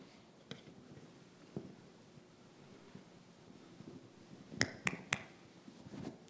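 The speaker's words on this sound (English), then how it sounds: "I'm going to go around you somewhere, and I'm going to clap my hands" Hands clap at different spots around a listener for a sound localization test: single sharp claps sound at irregular intervals, then a quick cluster of three, fairly faint over soft background noise with no talking.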